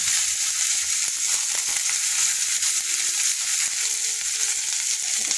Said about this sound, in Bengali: হালকা করে একটু লাল লাল করে ভেজে নেবো